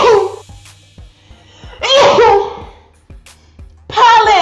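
A loud, abrupt pollen-allergy sneeze bursts out between quieter vocal sounds and soft clicks, close to the listener.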